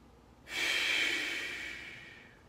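A single deep, airy inhale drawn in sharply through the nose during a posture breathing exercise, close and fairly loud, swelling quickly and then tapering off slowly, with no talk.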